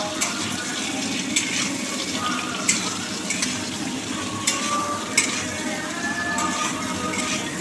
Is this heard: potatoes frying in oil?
yes